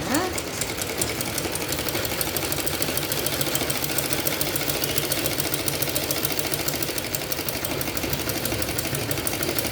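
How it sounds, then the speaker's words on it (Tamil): Sewing machine stitching close along the edge of a cloth piece in a buff hand stitching method, a steady continuous motor whir with rapid needle chatter running loud and unbroken throughout. "இதை ஓர தையல் படு ஓரமாக தையல் வச்சுருங்க"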